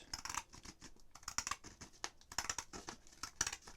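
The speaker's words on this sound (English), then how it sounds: "cut a line from the edge to this section here" Scissors snipping through paper at a comic-drawing craft workshop, a quick series of short crisp cuts in an irregular rhythm, close and fairly quiet with no talk.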